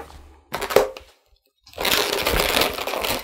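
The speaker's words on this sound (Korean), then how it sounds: "가위로 다듬어 줍니다." Scissors trim the knotted end of a latex balloon while making a balloon cup flower: a couple of close, crisp snips, a brief pause, then a longer rustling crackle of handled rubber.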